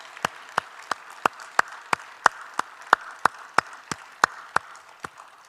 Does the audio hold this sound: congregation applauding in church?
yes